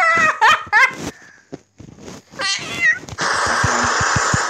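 A cat meows several times up close with rising, wavering cries, followed by a steady broadband rush with low rhythmic thumps; no talk.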